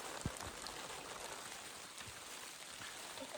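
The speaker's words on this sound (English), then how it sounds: "It's starting to rain." Steady hiss of light rain falling outdoors at a campsite in the Boundary Waters wilderness, with a few soft drops and taps standing out near the start; no voices.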